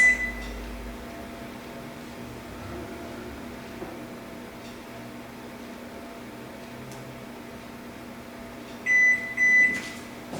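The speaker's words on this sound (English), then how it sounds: "So I'm going to set my timer for 10 minutes." A kitchen timer beeps while sugar cookies bake, giving two short bursts of bright electronic beeps near the end over a steady appliance hum.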